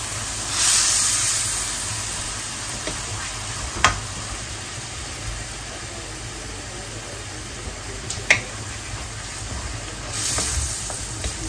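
Fish masala fries in a pan as tomato goes in, a steady close sizzle and hiss with a few small clinks of a utensil scattered through it.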